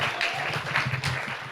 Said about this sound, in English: this is the time when we clap for him first